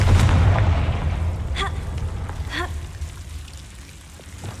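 A Confringo blasting spell explodes in Hogwarts Legacy with a heavy low boom at the start that decays over a few seconds, followed by a couple of faint crackling bursts and a trailing rumble.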